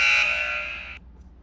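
An ice rink buzzer marking the end of a period sounds a single loud, harsh blast lasting about a second before cutting off abruptly.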